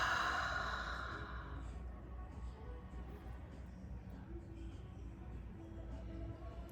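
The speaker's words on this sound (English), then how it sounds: "exhale, inhale, exhale, inhale" Long, soft exhale at the start of a children's calming breathing exercise, trailing off into quiet, faint breathing and low room hum, with no clear inhale heard.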